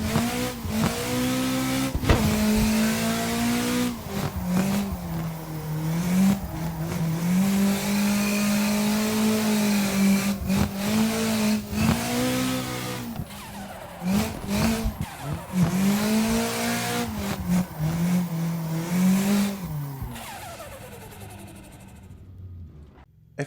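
Cars drifting in the racing game CarX Drift Racing Online, with a steady, loud engine drone that rises and falls as the throttle is worked through long slides, broken by brief tire-squeal bursts, continuous for about twenty seconds before fading.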